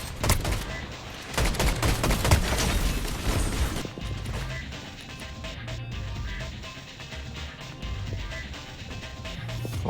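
Twin shotguns fire in a Fortnite Mobile match as a dense volley of sharp blasts and gunfire, heaviest early and easing into a quieter rumble of game sounds.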